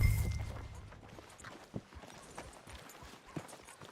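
A horse clip-clops at a walk on a farm as a rider prepares to mount, with a handful of separate hoof knocks sounding at uneven intervals, fairly soft and set against a low background rumble.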